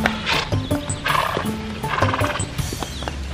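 A horse whinnies loudly and close by, mixed with clip-clopping hooves and shuffling movement, in a busy, full-sounding outdoor scene.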